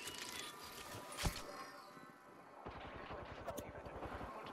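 Sniper and automatic gunfire in the battle-royale shooter Apex Legends, with a sharp crack near the start followed by a rapid string of shots later, set against busy game ambience.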